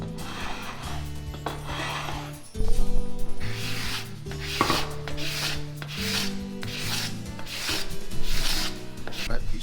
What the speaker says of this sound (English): After letting the glue dry overnight, it was then time to scrape the glue away.